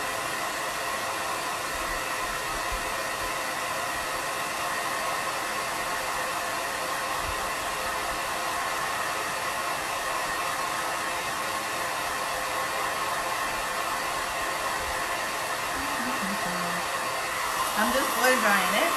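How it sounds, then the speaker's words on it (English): A hair dryer blows steadily to dry paint on a wood board, its loud, even whooshing hum running unbroken from start to finish and wavering briefly near the end. "I'm just blow drying it, making sure that it's good before I do the last layer."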